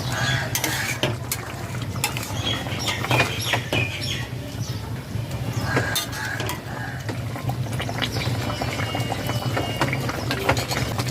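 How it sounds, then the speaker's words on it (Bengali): Rupchanda fish mustard curry simmering in a pot after lemon juice is added, a steady low bubbling hum with scattered utensil clinks and stirring scrapes, close and fairly loud throughout. "লেবুর রস দিয়ে এক মিনিট ফুটিয়ে নিয়েছি"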